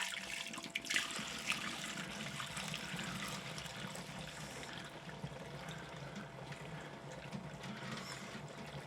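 Homebrewed stout wort is poured from a pot into a fermenter, a steady continuous splashing gush of liquid filling the vessel, close and even throughout.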